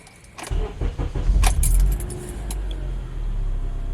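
A 2006 Honda Accord engine cranks and catches, then settles into a steady idle, with a brief jingle of keys near the start.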